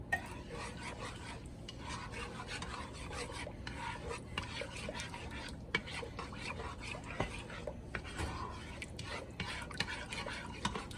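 A spoon scrapes and stirs Old El Paso enchilada sauce from a 10-ounce can into a Mexican lasagna in a pan, giving steady rasping swirls with small clinks, close and fairly quiet, with brief chatter in the background.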